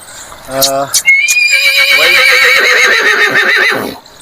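A one-year-old horse at a horse market neighs loudly and close by: a couple of short snorting calls, then one long, shaky whinny that rises and trails off.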